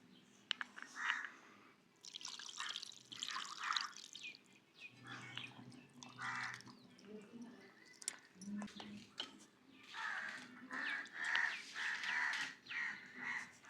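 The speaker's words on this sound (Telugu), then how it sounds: "ఇప్పుడైతే ఈ మ్యారినేషన్ కోసం ఈ చికెన్ని శుభ్రంగా కడగాలి." Raw chicken being rinsed clean in water ahead of marinating for a pepper chicken masala, with irregular splashing, dripping and squishing of wet meat at close range through the clip.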